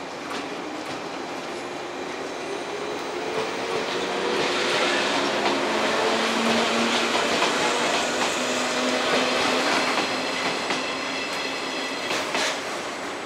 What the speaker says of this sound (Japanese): 5番乗り場から南下専用列車が発車します。